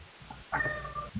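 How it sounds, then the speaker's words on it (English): A pet cat meows once close by, excited by a can being opened, a single clear drawn-out meow between soft background rustles, with no talking. "Every time I open a can, the cat goes fucking nuts because she thinks it's wet food for her"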